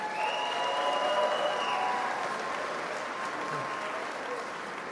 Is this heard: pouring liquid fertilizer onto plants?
no